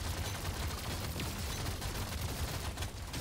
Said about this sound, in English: We're shooting like crazy.